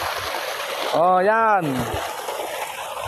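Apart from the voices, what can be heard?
water flowing from a hybrid solar pump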